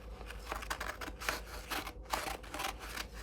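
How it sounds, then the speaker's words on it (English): Scissors snipping a polyester sublimation ribbon template, a run of short, crisp cuts in quick irregular succession, close and fairly quiet with no talk. "take our scissors, cut the template"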